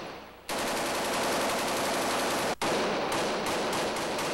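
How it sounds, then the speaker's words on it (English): Sustained automatic gunfire rolls back and forth between fighters and defensive positions in Beit Jala, West Bank. The fire is loud and dense, pauses briefly, then resumes in rapid overlapping bursts. "the daily and deadly volley of back and forth gunfire continues, with Tanzim soldiers firing on Israeli defense positions"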